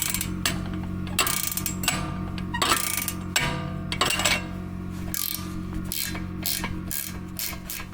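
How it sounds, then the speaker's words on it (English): Gear wrench ratcheting a 19 mm nut off by hand during a Honda Odyssey A-arm replacement, with rapid, irregular clicking pawl bursts close up over a low steady background hum. "just got a gear wrench on here, and we're just gonna run it off by hand"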